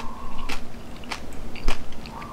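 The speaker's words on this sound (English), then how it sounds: "If you can hear that crunch." Crispy-skinned lechon kawali pork crunched while eating in a Filipino restaurant, three sharp close bites with chewing between them, and no talk.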